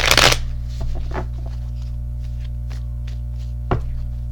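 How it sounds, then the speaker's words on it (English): A deck of tarot cards being shuffled up close, a quick riffle burst at the start followed by scattered soft taps and card flicks, with a steady low hum underneath. "Do one more shuffle then."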